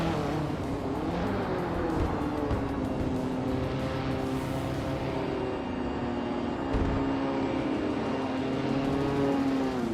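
Racing cars in a video game, among them a 1990 Mercedes-Benz 560, give a continuous engine drone with shifting harmonic whine as several cars run together at a steady level, no talking.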